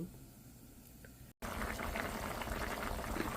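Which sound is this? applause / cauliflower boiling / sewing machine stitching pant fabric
cauliflower boiling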